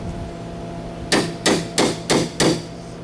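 A dent puller works on a Fiat Spider body panel: five sharp metallic knocks land at an even pace, loud and close, against a low steady workshop hum.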